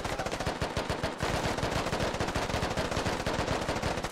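A machine gun in the Squad video game fires a full ammo belt in one continuous, rapid stream of loud, evenly paced shots with no pause and no talking.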